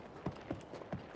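Horse hooves clip-clop in a steady walking rhythm, about five distinct knocks, close and moderately loud against a faint background hiss.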